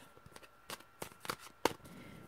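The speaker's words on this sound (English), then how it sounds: "Can you see me shuffling?" A deck of Trust Your Vibe oracle cards is shuffled by hand, sharp riffling flicks and snaps arriving in an irregular run, close and fairly quiet, with no voice.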